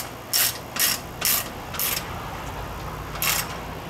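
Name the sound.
ratchet clicking while tightening fan mounting nuts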